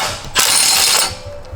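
Clutch bolts come off a Corvette with a ratchet, a single loud burst of rapid ratcheting clicks lasting under a second, set apart by quieter moments.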